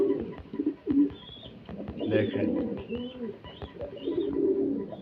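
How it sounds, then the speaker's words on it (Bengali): Lively pigeons, including Danish birds, coo repeatedly in low rolling bursts close by, with short wing flutters, while someone talks over them. "মাশাআল্লাহ একদম ফুল অ্যাক্টিভ কবুতরগুলো"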